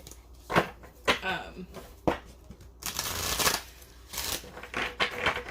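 A deck of crystal oracle cards being shuffled by hand, a run of crisp riffling bursts and soft card slaps, close up, with a voice speaking in between.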